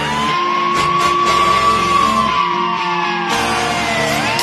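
An ambulance siren wails loudly in busy street traffic, a close sustained wailing tone sliding slowly up and down, joined by honking and shouted voices.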